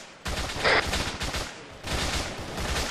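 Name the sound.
gunfire in video game ARMA III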